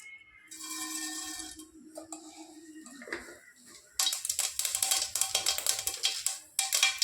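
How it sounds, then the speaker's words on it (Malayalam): Mustard seeds crackling and popping in hot coconut oil in a pan, with a steady sizzle that turns into a burst of dense, loud sharp pops and spatters in the second half. "കടുക് നല്ലോണം പൊട്ടുന്നുണ്ട്"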